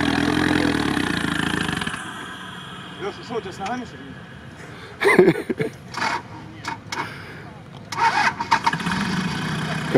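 A UAZ-derived off-road vehicle's engine cranks and starts on sand, a rough mechanical churn followed by uneven revving bursts, with people talking nearby.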